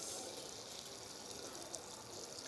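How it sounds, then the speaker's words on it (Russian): Steady pouring of hot boiling brine over carrots in a jar, a continuous soft gushing splash that holds evenly throughout. "Рассол кипит, и мы осторожно заливаем"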